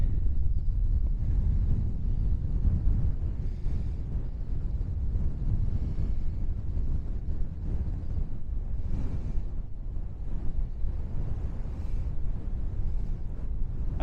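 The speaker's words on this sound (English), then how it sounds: "I'd say it's a fresh wind up here" Fresh wind buffets the microphone on the hilltop of Tap O' Noth in Aberdeenshire, a steady, fairly quiet low rush with slight gusty swells and no talking.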